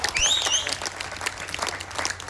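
Thin, scattered applause from a poetry recital audience, loose uneven claps with whistling tones over them, brief and moderately loud.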